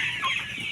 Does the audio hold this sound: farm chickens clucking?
yes